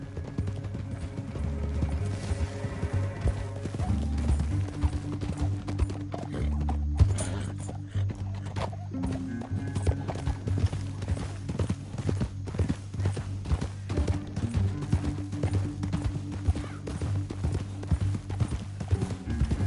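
Horse hooves clip-clopping steadily in a PS4 western video game, a continuous rhythmic trot mixed with game music and ambient sound, with occasional whinnies.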